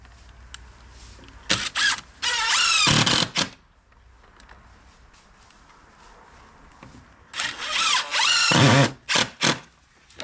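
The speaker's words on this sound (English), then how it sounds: "put all 4 screws in it" A power drill or driver whirs in two bursts of a few seconds each as screws are driven into a storm door during installation. The bursts are loud and close, with quiet gaps between them.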